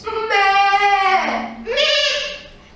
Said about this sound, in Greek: Περιπλανιόταν μονάχη της, όταν είδε ένα κοπάδι κατσίκες.